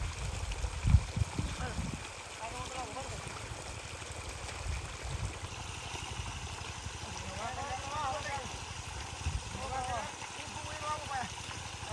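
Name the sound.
water spraying from garden sprinklers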